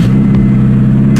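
A Honda S2000 CR sports car's engine fires up and settles into a steady low idle rumble, close and loud, with no talking over it.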